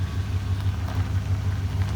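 A truck engine idles with a steady low rumble and a regular pulsing throb, close and continuous, with no voices.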